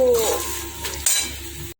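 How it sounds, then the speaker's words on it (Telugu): Sesame seeds being stirred in a pan while dry roasting for nuvvula karam podi, a spoon scraping and clinking against the metal with soft rustling of seeds, close and steady, with a brief louder scrape partway through. "కలుపుతూ ఉండాలి నువ్వులు"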